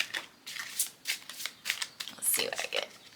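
Tarot cards being shuffled by hand, a run of crisp riffling bursts and soft slides repeating at close range, with a voice talking over parts of it.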